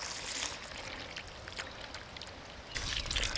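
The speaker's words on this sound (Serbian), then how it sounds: "Dobro natopite vodom" Water is poured into planting holes prepared with manure for young plants, a continuous close splashing stream that swells louder toward the end.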